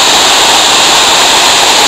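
A waterfall in the Garganta do Silveirão gorge pours with a loud, dense, unbroken rush of water, steady throughout this short stretch.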